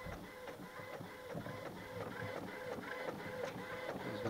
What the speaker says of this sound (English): So you can hear it printing out right now.